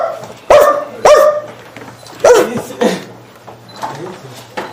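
A man imitates a dog barking, with a few sharp bark-like yelps in quick pairs, loud and close, followed by rougher vocal sounds and murmuring.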